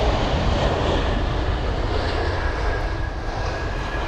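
A Swiss Airbus A220 at London Heathrow gives a steady, loud, broadband jet engine roar that holds evenly throughout, with no voices.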